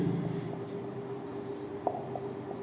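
Pen scratching out a handwritten maths solution on paper, soft strokes in short bursts over a steady low hum, fairly faint and close.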